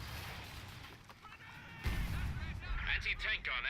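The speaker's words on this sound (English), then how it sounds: "Lord Senna has gone for Royal Artillery, bombarding this area." Royal Artillery bombardment in a WWII battle game around Caen: rumbling, booming low thuds and crackling bursts under continuous talk, swelling louder in the second half.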